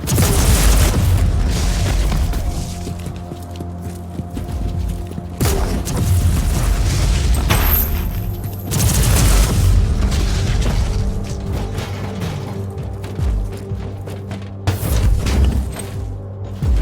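Explosions from Marauder bomber strikes in the Warhammer 40,000 Inquisitor video game: several heavy booming blasts at irregular intervals, loud and close, each with a rumbling decay over continuous battle ambience.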